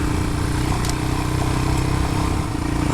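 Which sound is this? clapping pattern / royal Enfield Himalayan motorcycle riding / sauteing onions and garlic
royal Enfield Himalayan motorcycle riding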